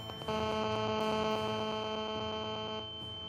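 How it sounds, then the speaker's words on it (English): A camera's audio distorts into a sharp, steady electronic ringing tone with a harmonic buzz, sustained for about three seconds before fading slightly. "their camera's audio began to distort into a sharp ringing noise"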